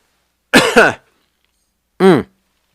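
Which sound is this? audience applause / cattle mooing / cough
cough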